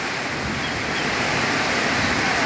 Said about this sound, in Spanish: Qué tormentón.